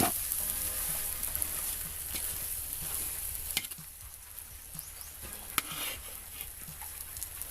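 Pancit canton noodles, Ilocano style, fry and get stirred in a pan, giving a steady close sizzle with scraping stir strokes and a few sharper clacks throughout, with no voices.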